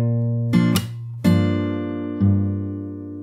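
Fingerstyle acoustic guitar plays a song, three plucked chords with a low E bass note ringing out and decaying between strikes, close and alone.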